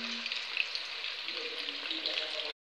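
Potato pieces frying in hot oil, a steady close crackling sizzle that continues evenly before cutting off abruptly.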